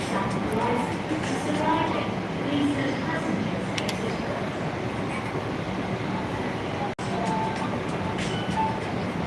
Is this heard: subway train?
yes